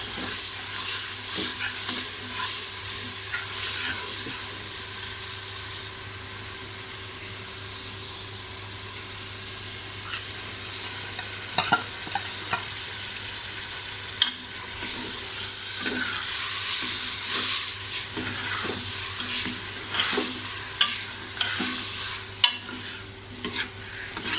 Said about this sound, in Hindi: मसाले को अच्छी तरह से भूनना है।